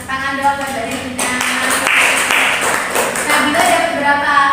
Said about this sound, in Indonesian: Ih, 90, tepuk tangan dong.